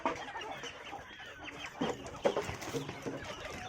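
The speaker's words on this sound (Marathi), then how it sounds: "मी आता कोंबड्यांना खाद्य टाकतोय" Chickens cluck faintly at feeding time on a small goat and poultry farm, scattered soft calls over a low background hum.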